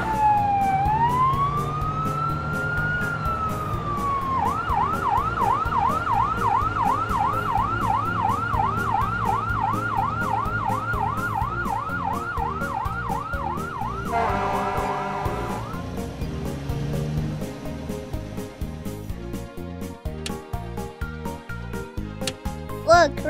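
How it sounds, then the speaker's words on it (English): An emergency vehicle siren wails loudly and continuously, first a rising-falling wail and then a fast repeating yelp, shifting to a harsher tone near the end as it fades slightly, with engine and traffic noise underneath. "Pull over and let emergency vehicles pass you."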